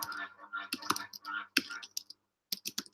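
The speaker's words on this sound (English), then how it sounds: "let's type in reshape" Quick bursts of computer keyboard typing during a Python coding session, close and fairly quiet, in short clustered runs with brief pauses.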